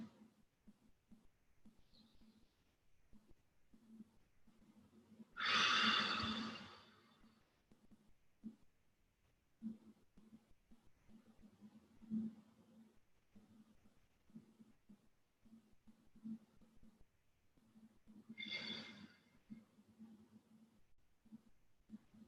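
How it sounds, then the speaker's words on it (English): Deep breathing during a guided relaxation exercise, two long, slow, airy breaths heard close and fairly quiet, with near-silence between them. "And so let's just take about 7 more deep breaths"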